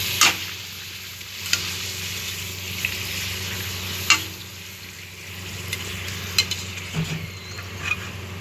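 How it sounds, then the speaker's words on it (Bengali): Chopped papad pieces fry in hot oil in a pan, giving a steady close sizzle with a few sharp utensil clicks and scrapes scattered through. "পাঁপড়কে কুচিয়ে রেখেছি, ওটাকে একটু ভেজে নেবো"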